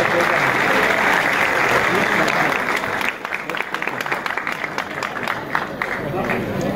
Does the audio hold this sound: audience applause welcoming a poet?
yes